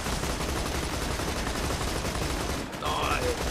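Steady rapid gunfire rattles from a vehicle in Borderlands 2, loud and unbroken for a few seconds with a faint voice-like tone near the end.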